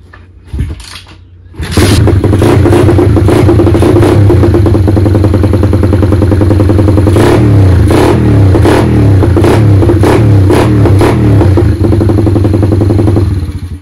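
A motorcycle engine catches after a brief cranking sputter, then runs loud and close, rising and falling through repeated throttle blips and revs until the end.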